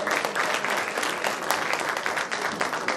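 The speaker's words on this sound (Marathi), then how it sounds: "सर्वांसाठी जोरदार टाळ्या" Loud, continuous applause from a crowd fills a sports day prize distribution ceremony at a university, many hands clapping densely with no pauses and no voices over it.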